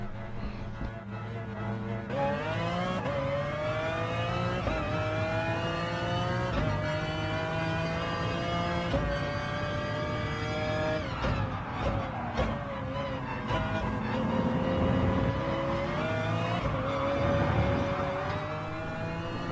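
Race cars, including a McLaren F1 GTR and a BMW, start a race at Interlagos in Gran Turismo Sport, with loud overlapping engines revving and climbing through gears in continuous rising and falling whines.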